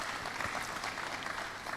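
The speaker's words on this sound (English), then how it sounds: "Please, let's give him a round of applause." Audience applause at a university event, a brief wash of steady clapping from a crowd heard at moderate distance.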